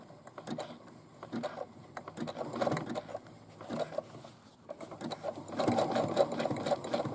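Sewing machine stitching across a casing opening to reinforce it, running in steady bursts of rapid needle clatter with brief pauses, then a longer, louder continuous run near the end.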